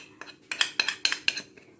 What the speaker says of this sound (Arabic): هنقلب كل دوت